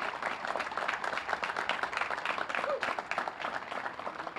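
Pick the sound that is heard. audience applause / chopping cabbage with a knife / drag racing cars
audience applause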